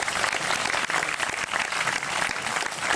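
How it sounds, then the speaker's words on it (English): An audience at a 1998 family reunion claps for the event's co-chair, a dense, steady wash of applause that holds evenly from start to finish. "A round of applause for Derlin,"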